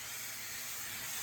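A Vasson electric air duster running with no nozzle attached blows a steady, close, loud rush of air, heard as a continuous even hiss throughout with no voices over it.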